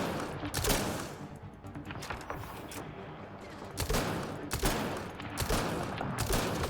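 Rapid gunfire in the sci-fi shooter Mass Effect Andromeda, with dense bursts of loud, sustained shots and repeated sharp cracks that keep rolling on without pause.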